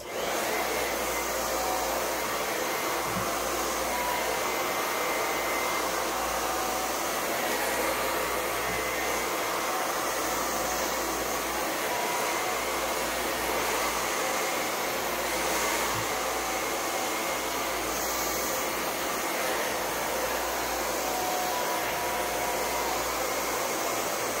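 A hair dryer blow-dries type 4 natural hair, giving off a loud, steady roar that continues unbroken throughout. It is close to the microphone, with no talk.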